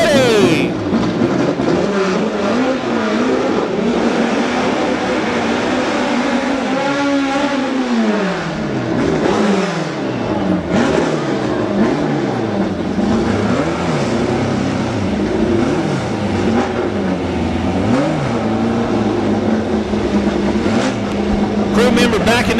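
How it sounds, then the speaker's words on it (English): Drag race cars at Farmington in 2007 rumble and rev near the line before launch, engines swelling and dropping repeatedly while an announcer talks loudly over the continuous engine noise. "Get them burnouts ready."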